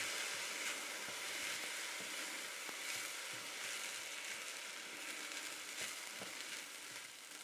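Rice vinegar hits a hot risotto pan, giving a steady, fairly quiet sizzle with soft crackles and occasional stirring scrapes throughout.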